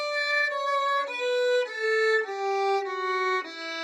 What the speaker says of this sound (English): we're going to find 3 fingers high D, and it sounds like this